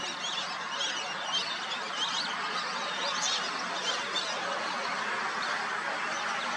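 A large flock of whistling ducks calls nonstop at a pond in the morning, many overlapping whistling and honking cries forming a dense, steady chorus at moderate distance.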